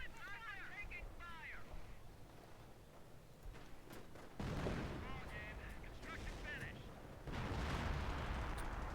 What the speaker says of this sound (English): Americans have an artillery piece in their base.